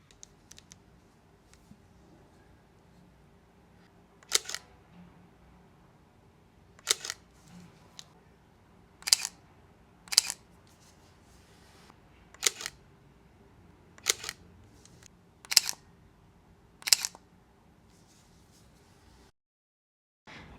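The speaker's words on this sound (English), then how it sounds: "compare the 262 to the M10 shutter" Leica M262 and M10 rangefinder shutters firing in turn: about nine crisp, isolated clicks spaced one to two seconds apart, close and alone against a quiet room.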